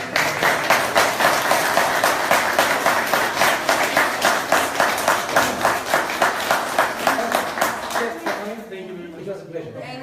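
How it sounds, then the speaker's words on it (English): An audience at a talk on Islam and extremism claps for the speakers in a steady, rhythmic, almost unison beat, loud and regular, before the clapping thins out and a voice begins speaking near the end. "a round of applause for our speakers"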